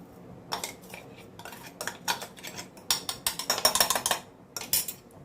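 Sambar being stirred in a pot after spice powder is added, a ladle scraping and clinking against the metal in quick irregular bursts, close and fairly quiet.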